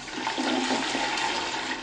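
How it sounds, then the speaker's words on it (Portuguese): A toilet flushing with reused shower water fed from a separate household storage tank, a steady, close rushing gush of water that holds loud and even throughout. "Já a água do chuveiro da família passa por este outro reservatório e abastece a descarga do banheiro."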